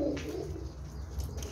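Pigeons coo in a rooftop loft, soft low throaty calls repeating over steady background noise, fairly close and continuous throughout.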